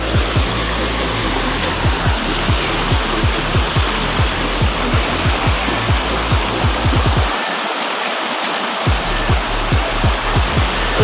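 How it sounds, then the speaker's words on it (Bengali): Rainy-season water rushes through a channel in Kerala, a loud, continuous close-up roar of flowing water with a rhythmic low pulsing throughout. "কেরালার যত বর্ষাকালে জল এই নালির মাধ্যমে এইভাবে আসে"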